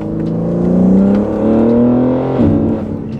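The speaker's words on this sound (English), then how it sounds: "It's like crazy induction noise." A BMW G80 M3 engine with front-mount intakes revs up loudly with a throaty induction roar, pitch climbing and dropping back, close by.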